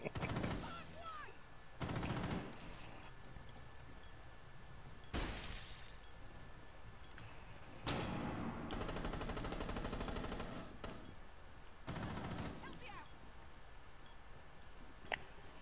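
Bursts of turret machine-gun fire in the video game Rainbow Six Siege, several loud sustained volleys separated by short pauses, with clicks and scattered effects between them.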